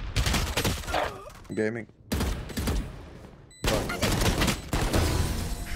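Rapid bursts of submachine-gun fire from a Spectre in Valorant, close and loud, broken by short pauses, with a player talking over parts of it.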